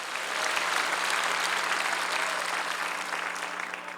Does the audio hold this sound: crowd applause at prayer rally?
yes